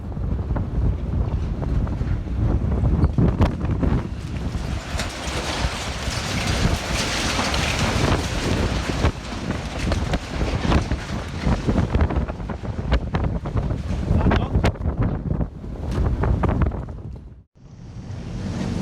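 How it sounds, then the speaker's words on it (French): Strong, roaring storm wind in Scotland buffets the microphone continuously, with gusting rumble and a brief drop near the end before it picks up again. "La tempête en Écosse a transformé la tente déployée en jouet."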